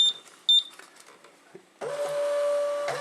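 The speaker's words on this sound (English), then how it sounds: "the printer will detect the labels to tell you that, right, I'll just wait for that beeping" A Milestone MHT-L1081 thermal shipping label printer feeds labels with short clicks and mechanical whirring, followed by a sustained tonal electronic note lasting over a second, close and fairly loud.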